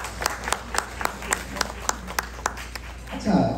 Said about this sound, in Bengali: একটা হাততালি হোক